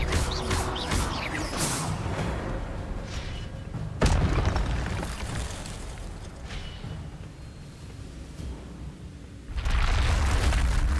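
Magical Expelliarmus spell cast in the video game Hogwarts Legacy, giving loud booming, crashing bursts with a whooshing sweep. A sharp hit lands near the middle and another heavy blast near the end, over a dense rumbling game backdrop.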